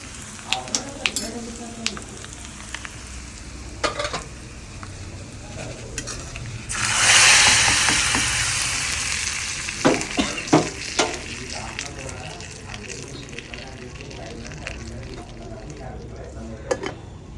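Drumstick curry frying in a pan with asafoetida sizzles steadily. A spoon stirs and clinks against the pot, and a loud burst of hissing swells midway and then fades. A voice speaks faintly in the background.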